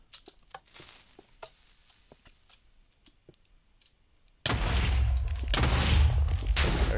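Series of TNT blocks exploding in Minecraft, placed two apart, arriving as a dense, loud burst of rumbling blasts that fill the last few seconds after a stretch of faint clicks and quiet game ambience.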